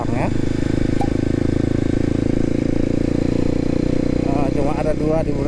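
A Kawasaki D-Tracker 250 motorcycle engine runs continuously while riding, producing a loud, close, steady throbbing drone, and a voice speaks over it near the end.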